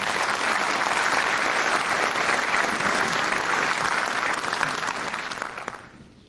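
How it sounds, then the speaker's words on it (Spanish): Sustained loud applause from an audience at a formal conference event, steady clapping for about six seconds before fading out at the end. "Por favor, recibamos con un fuerte voto de aplausos al doctor Luis Alfonso Petri"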